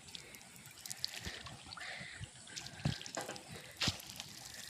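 Floodwater rushes and gurgles, faint and continuous, with scattered splashes and sloshing bursts.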